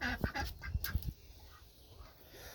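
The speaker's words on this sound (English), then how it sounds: "They call her Mavy, the cream duck." Cream-coloured broody duck quacking in a backyard pen, a quick series of five or six close quacks followed by quieter ambient noise.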